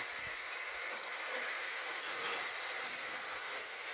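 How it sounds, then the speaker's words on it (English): A Bachmann Dinmore Manor model locomotive runs on track, giving a continuous close hiss and whirring rattle that holds steady throughout with no talking. "That is one powerful little loco, that thing."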